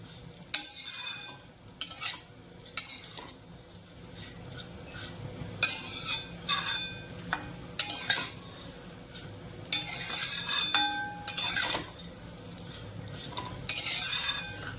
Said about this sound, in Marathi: शेवई जितकी बारीक गॅसवर भाजाल तितकी सगळीकडून भाजली जाते शेवई